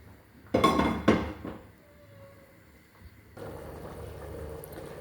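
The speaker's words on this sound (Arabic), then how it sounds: "لهنا باش نصب كمية الماء المطلوبة ونخليه يطيب على راحته." Metal clanks against a cooking pot, then a steady, moderate rush of water pouring into a pot of lentil soup that continues to the end.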